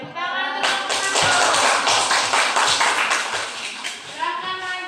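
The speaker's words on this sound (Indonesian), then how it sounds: "Oke, tepuk tangan untuk kelompok" Classroom of students clapping for a student group after its presentation, a dense burst of applause that swells and then fades, with voices heard briefly before and after.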